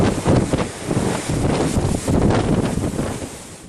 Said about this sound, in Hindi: आज हवा बहुत तेज है